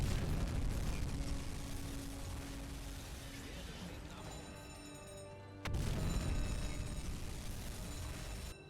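A torpedo strikes a C3 freighter in a submarine warfare game: a sustained low rumbling explosion with a sharp second burst partway through, heavy and continuous, with a voice speaking over it.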